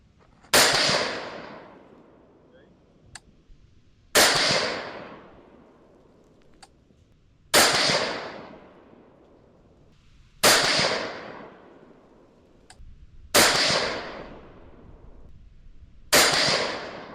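Six loud rifle shots firing polymer-tipped bullets ring out at a steady pace about three seconds apart, each a sharp crack followed by a rolling outdoor echo that fades before the next.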